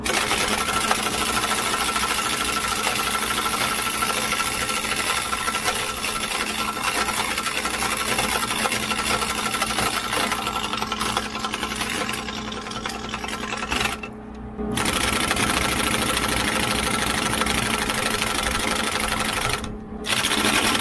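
Air-powered shop tool running hard and continuously while working a stuck wheel weight, a dense rattling buzz with two brief pauses where the air cuts off.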